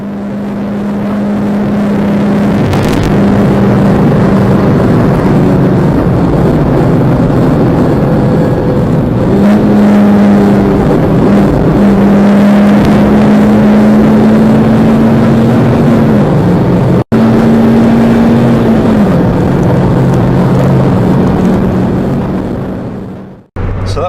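A Mazda MX-5 race car's engine revving hard at Cadwell Park circuit, pitch rising and falling through gear changes, loud and close with steady wind roar.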